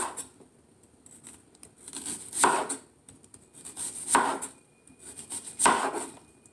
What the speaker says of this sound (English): I'm going to chop up some onion